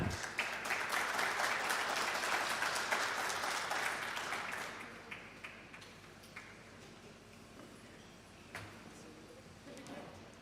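An audience at an agricultural talk on cherry production applauds in welcome of speaker Patricio Espinosa, a full round of clapping that fades after about five seconds into a few scattered claps, with voices talking underneath.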